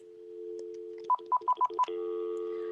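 A Uniden cordless phone's handset beeps out five short, evenly spaced keypad tones over a steady dial tone, clear and close, with no talking.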